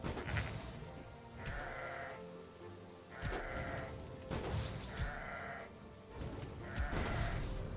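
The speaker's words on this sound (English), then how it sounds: "This sheep is very intense" Sheep bleating in the video game Cursebreaker: four loud, wavering bleats come at fairly regular intervals over a busy game backdrop, with no talk.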